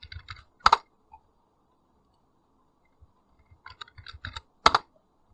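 Short bursts of typing on a computer keyboard as a search is entered, close, crisp key clicks in two separate flurries with a quiet pause between them.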